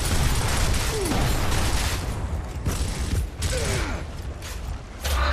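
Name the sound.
cranking a mounted gun in video game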